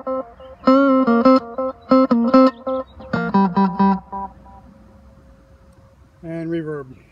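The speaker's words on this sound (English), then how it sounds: "Tape echo." Clean electric guitar on a neck pickup through a Line 6 Spider 15 amp with tape echo, plucking short chord stabs in bursts, each trailed by fading repeats and a lingering held note before a final strum.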